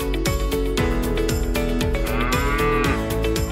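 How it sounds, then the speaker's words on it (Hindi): Cattle bellow at a heavyweight goat and bull show in Sialkot, giving loud, drawn-out moos that repeat over a busy, continuous background. "हैवी वेट बकरे और बैल मैदान में आए"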